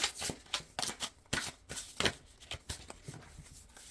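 Tarot cards being shuffled by hand, close by and alone, with a burst of quick papery riffles and flicks that come and go irregularly and carry no voice.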